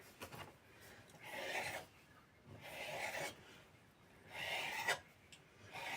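A knife cuts through savory dough for croissants and pretzels, strokes coming in a few soft, rasping bursts close by with quiet gaps between, no talking.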